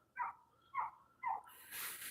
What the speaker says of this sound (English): All the goddamn barking every damn day.